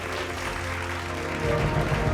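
A crowd at a Bhojpuri film awards ceremony applauds an honoree for his contribution to Bhojpuri cinema, steady close clapping over a sustained musical drone, swelling slightly louder midway.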